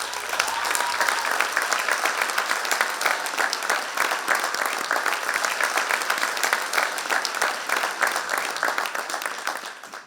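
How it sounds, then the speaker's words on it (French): Dense, sustained audience applause fills a youth-event hall for two finalists, many hands clapping steadily and loudly from start to finish without a pause. "Merci d'applaudir, s'il vous plaît, Marie-Lie Dumont et Anne-Sophie Gingras."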